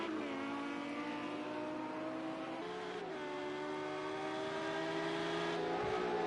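A number 5 Audi race car's engine drones steadily in Project CARS 2 at Circuit Zolder, rising and dropping in pitch through gear changes, mid-distance and continuous with no break.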